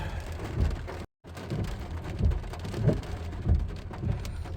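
Steady rain falls during a long line thunderstorm, a continuous hiss with low rumbling swells and a brief dropout partway through.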